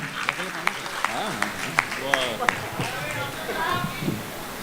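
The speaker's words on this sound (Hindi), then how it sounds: "जोरदार तालियों से इस्तकबाल करें" Scattered claps from a small audience at a mushaira poetry recital ring out under someone talking, uneven and moderately loud throughout.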